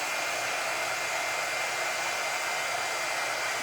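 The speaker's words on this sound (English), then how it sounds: "I'm gonna take the heat gun and I'm gonna take this clip off." A heat gun blows continuously, giving a steady, close, loud airy whoosh without variation or speech.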